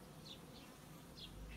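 Honey bees buzz around a hive during a sunflower honey harvest, a faint, steady hum with individual bees droning past nearby, no voices.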